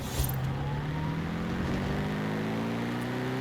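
Supercharged Jaguar SVR engine in the Forza Horizon 5 video game, a steady, moderately quiet drone with a rising engine tone and a faint supercharger whine above it, with no talking.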